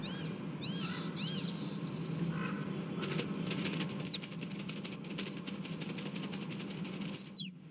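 Birds burst into flight in the Little Kitty, Big City video game. A few chirps lead into a fluttering rush of flapping wings that lasts several seconds, with a couple of short tweets, over a steady ambient background.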